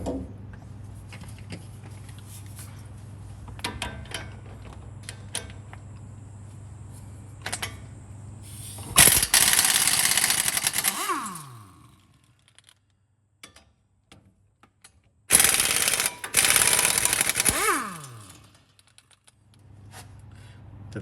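A tool loosening two 18mm bolts on a Ford Ranger front brake caliper bracket gives two loud, close bursts of rapid mechanical rattling, separated by quieter clicks and scraping of metal parts.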